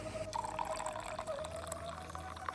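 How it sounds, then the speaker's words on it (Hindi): Irrigation water running downhill through hillside orchard fields in Himachal, a faint, steady trickle and gurgle with light drips, heard from a short distance with no talking. "अभी देखो फिर से यहाँ से पानी जा रहा है नीचे को।"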